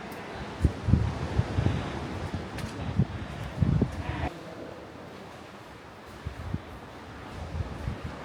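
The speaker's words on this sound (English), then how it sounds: "It's quite windy down here because obviously the wind's blowing from one part of Headland to the other." Gusty wind blowing across a coastal headland near Tintagel and Boscastle buffets the microphone with low rumbling thumps and rustling, easing midway then picking up again.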